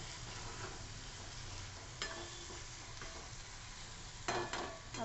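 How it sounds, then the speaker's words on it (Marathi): Lentils sautéing quietly in a pan, a soft, steady frying hiss with a few faint clicks of a utensil stirring. "अशी थोडीशी डाळ चांगली परतवून घ्यायची"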